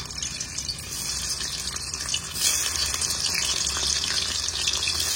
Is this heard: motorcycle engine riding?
no